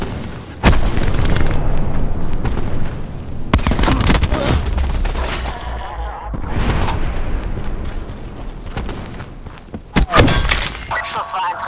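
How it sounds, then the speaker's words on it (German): Remote-controlled charges detonate in Call of Duty: Black Ops 4 on the Jungle map, loud booming blasts and heavy thuds repeating every few seconds amid gunfire, with German voice callouts heard between them. "Setze Fernlenkladung ein."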